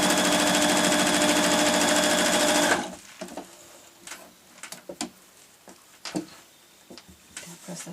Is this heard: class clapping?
no